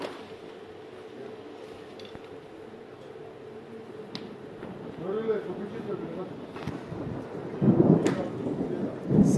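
Thunder rumbles during a storm at an outdoor stage soundcheck in Brezoi, a long low roll that grows louder and more broken toward the end, with background noise throughout.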